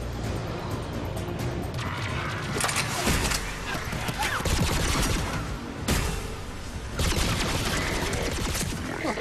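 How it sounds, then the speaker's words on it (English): Geth rifle fire in Mass Effect 3 comes as bursts of sharp, rapid shots with impacts and clatter, moderately close amid game noise, and a voice talks faintly under it. "I love the Geth rifle."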